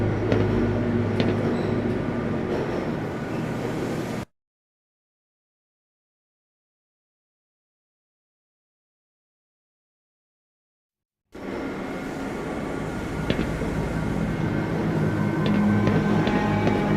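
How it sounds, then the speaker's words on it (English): Rumbling rail car rolling along the track in the Black Mesa game, a steady loud mechanical drone with clanks, cut by a long stretch of total silence before resuming. "This train is inbound"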